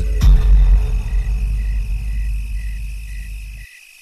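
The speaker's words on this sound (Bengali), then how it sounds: "ঝিঝি পোকাদের ঝিঝি শব্দ আর ব্যাঙের ডাক ভেসে আসছে" Crickets chirp at night alongside frogs, a thin repeating trill pulsing in regular short bursts over a low rumbling background, then cutting off near the end.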